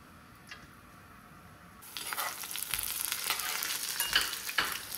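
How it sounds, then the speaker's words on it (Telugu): Onions drop into hot oil in a kadai, bursting into a loud, crackling sizzle after a quiet moment, with a few stirring scrapes and no voices. "ఆయిల్ కొంచెం హీట్ అయినాక ఆనియన్స్ వేసుకోవాలి."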